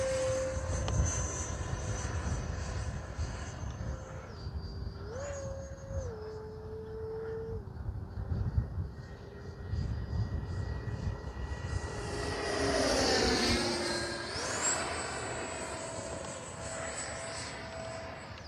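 Freewing 70mm F9F-5 Panther RC electric ducted-fan jet model flying overhead, a steady whining turbine-like drone with pitch shifts as it passes, swelling louder and sweeping near the end, no talking.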